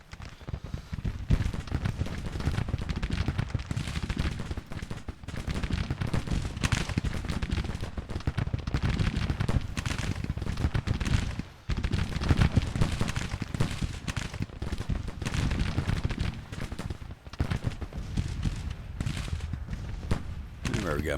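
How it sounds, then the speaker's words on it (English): Dense, continuous gunfire from a Civil War battle game: rapid overlapping rifle volleys and cracks crowd together into a constant rattling barrage, with only a few brief lulls. "All those bullets flying."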